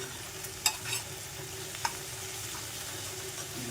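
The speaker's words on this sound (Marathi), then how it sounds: "कांदा आणि शिमला मिरची दोन्ही व्यवस्थित थोडी शिजेपर्यंत त्याला जरा परतवायचं." Onion and capsicum stir-fried in a pan give a quiet, steady sizzle, broken by a couple of sharp spatula clicks against the pan.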